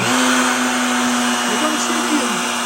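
A Pantorouter spins up and cuts a dovetail joint in eastern white pine, a loud, steady high whine from the router that shifts in pitch as the bit engages the wood. No one speaks.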